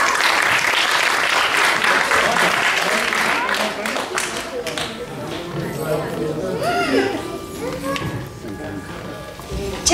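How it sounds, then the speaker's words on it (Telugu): An audience applauds at a school annual day event as children are welcomed onto the stage. The dense, steady clapping fades partway through into murmuring chatter, movement and shuffling noises. "వారిని చప్పట్లతో ఆహ్వానిస్తారు."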